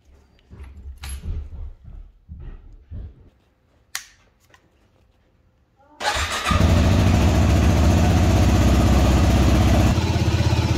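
A Yamaha WR250R dirt bike, just back from an oil change, is heard first through soft handling clicks and rattles. Then the engine cranks, fires and settles into a loud, steady idle that continues to the end.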